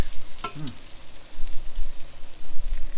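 Batter for state fair sweet treats frying in hot oil makes a brief, steady bubbling sizzle close to the microphone, with a short vocal sound near the start.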